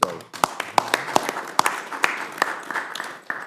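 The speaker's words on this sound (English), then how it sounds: "something that I think deserves a round of applause" A round of applause rings out in a House Rules Committee hearing room: sparse, distinct hand claps from a modest group, fairly close and loud, with faint talk beneath.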